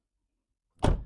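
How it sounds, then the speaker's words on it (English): A Ford Ranger pickup truck door is pulled open, one brief, solid thunk with a metallic clunk near the end, after near silence. "Let me open up this door real quick."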